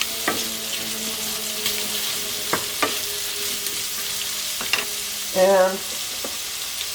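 Thinly sliced onion and roughly chopped celery sizzle in a pan for a hearty chicken dinner, a steady fry hiss broken by a few sharp utensil clicks and scrapes, with one brief spoken word.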